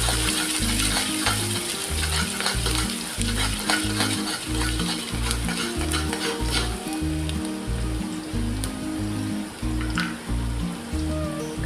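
Guvar (cluster bean) curry being stirred in a frying pan, a steady loud sizzle with repeated scraping strokes of the spoon running throughout, no voices.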